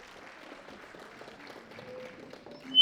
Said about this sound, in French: On les applaudit encore très fort,